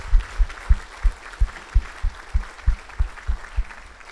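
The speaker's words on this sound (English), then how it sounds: "If we can give a round of applause for all the dignitaries that have joined us today." Audience applause for dignitaries at a Los Alamitos State of the City event, heard as a regular, evenly spaced series of loud thumping claps rather than a dense wash.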